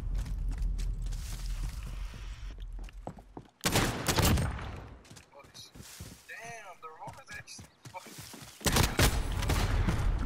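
Gunfire in the Call of Duty Modern Warfare video game: heavy volleys of shots in bursts that are loud, close and dense, with quieter gaps between them, under and between the players' talk.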